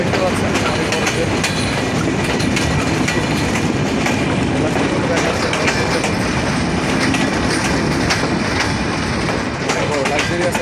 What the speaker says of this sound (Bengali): লাক্সারিয়াস একটা ট্রেন আমাদের সুন্দরবন এক্সপ্রেস চলে যাচ্ছে।